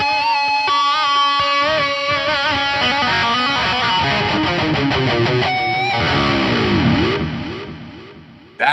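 Distorted electric guitar run through a TC Electronic delay, sustained chords and notes trailing into echoing repeats that swirl and fade, loud and up front with a sharp attack at the very end.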